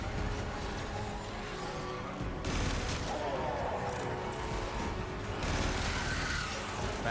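Sustained automatic gunfire in Warframe as a full magazine is emptied into a target, a dense, steady rattle of shots with two louder bursts standing out, mixed with mechanical game noise.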